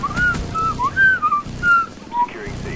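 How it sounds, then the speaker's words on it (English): Someone whistles a short, lilting tune close up, clear bright notes rising and falling in a quick melodic run over faint background noise. "do a little whistling music along the way"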